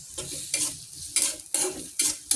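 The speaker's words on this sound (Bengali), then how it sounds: "এভাবে নেড়ে নেড়ে লাল করতে হবে। দেখো তোমরা এভাবে পেঁয়াজটা লাল করে নিবা।" Onions fry in a pan for chola bhuna while a spatula stirs them, giving loud scraping strokes every half second or so over a constant close sizzle.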